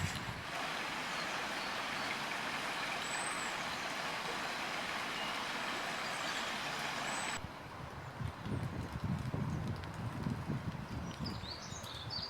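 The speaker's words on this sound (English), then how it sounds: "More of the traffic." Road traffic with trucks passing in South Wales, a continuous low rumble and roar of vehicles with a brief higher tone; the sound shifts partway through as a heavier, closer engine growl takes over.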